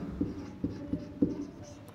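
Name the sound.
writing an equation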